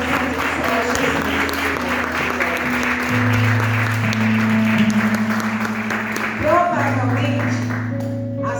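Church congregation applauding together in steady, continuous clapping, with sustained voices or music tones running underneath throughout.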